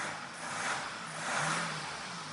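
A repaired Mazda diesel engine, cured of a knock and smoke fault, runs smoothly at moderate distance, its note swelling in two gentle revs and easing back between them, with no one talking.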